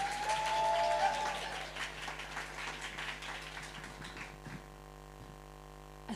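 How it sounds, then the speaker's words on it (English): Applause at a Strictly-style dance fundraiser for the dancers Neve and Amy, loud at first with a brief tonal sound over it, then fading gradually into a quiet room with faint hum by the end. "Let's give one last round of applause for Neve and Amy."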